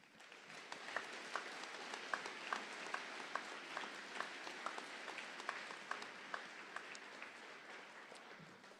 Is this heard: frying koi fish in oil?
no